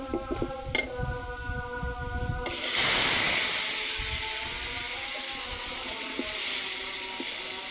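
Hot tempering (bagar) hits a spicy naga chili curry with a sudden loud hiss, and a steady sizzle holds for several seconds after some faint clicks and tones, with no talk.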